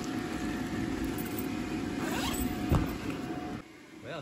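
The zipper door of an inflatable paint booth is pulled open in one continuous rasping run lasting a few seconds, close and fairly quiet against a steady fan hum.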